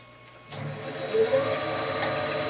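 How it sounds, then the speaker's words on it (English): A woodturning tool shear-scrapes a bowl spinning on a lathe, starting after a brief quiet moment and then settling into a steady, close whirring scrape with a faint high whine. "use the back or bottom wing to scrape across this surface to take out all these little tiny ripples"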